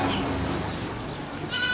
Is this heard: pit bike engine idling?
no